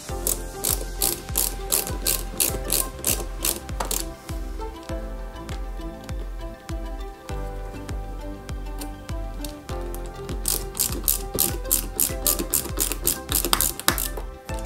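A ratcheting screwdriver drives EP screws into plastic parts of an Altaya Robocop cyborg model kit. Rapid, even clicks run in long close runs with brief pauses, over a faint steady tonal background.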